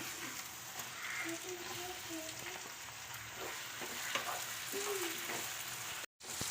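Tomatoes go into a hot pan for chicken curry, and a soft, steady sizzle follows with light stirring scrapes. The frying stays faint and continuous, and a brief dropout comes near the end.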